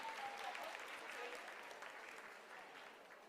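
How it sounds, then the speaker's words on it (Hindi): Faint, distant applause rolls through mission control during the Chandrayaan-3 lunar landing, a steady patter of many hands that slowly eases off, with a brief tone and low voices mixed beneath. "Lot of applause indicates that till now the performance has been nominal"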